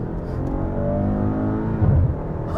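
A Maserati Ghibli's twin-turbo V6 revs up loud and close, holding a strong, steady engine note with a brief surge near the end, and no voices over it.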